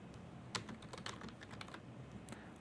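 Typing on a computer keyboard while editing a dashboard title, a quiet irregular run of close key clicks and taps with a few sharper strokes.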